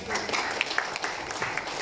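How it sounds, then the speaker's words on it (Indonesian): An audience at an indoor testimonial gathering in Bandung breaks into sustained applause, dense and fairly close, with some voices mixed underneath. "Beri tepuk tangan untuk Bunda Rati, koordinator bintang 3."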